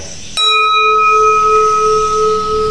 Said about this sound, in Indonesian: alat untuk kebaktian yang kita namakan sebagai gong. Dan bunyinya itu sangat nyaring sekali dan sangat bagus